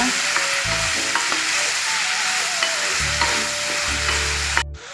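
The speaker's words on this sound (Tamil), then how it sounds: "தக்காளி இந்த சட்னிக்கு தேவையான அளவு உப்பு போட்டு நல்லா வதக்குங்க" Tomatoes sautéing with salt in a pan for tomato chutney give a steady, close sizzle and crackle, with a few scraping stirs of a spoon and low thumps partway through.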